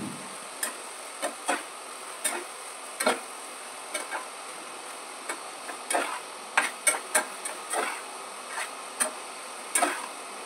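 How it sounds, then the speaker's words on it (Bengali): Poppy seed paste sautéed in a pan with oil, ginger, fenugreek and green chillies, heard as a steady soft sizzle under repeated light spatula taps and scrapes at an irregular rhythm. "এবার আমি এর মধ্যে পোস্ত দিয়ে দিলাম। পোস্ত দিয়ে একটু কষিয়ে নিচ্ছি।"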